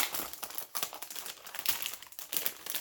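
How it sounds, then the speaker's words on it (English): Paper and ephemera crinkle and rustle while a vintage typewriter-themed journal is decorated, with Tim Holtz Stampers Anonymous stamps nearby; steady close crackling for the whole stretch, with quick bursts and no voice. "Sorry for the crinkling."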